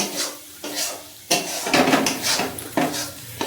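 Soya chaap is stir-fried in a pan, loud close scraping and tossing strokes coming in rhythmic waves over a bed of frying sizzle.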